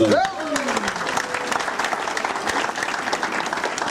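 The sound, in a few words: audience applause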